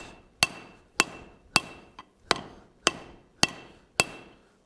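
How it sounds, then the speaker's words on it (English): A hammer strikes hot steel on an anvil while the shank of an anvil hardy is drawn down, seven loud ringing blows landing at a steady, roughly half-second rhythm, close and clear with no talk. "We're going to draw down the shank, the hardy shank first"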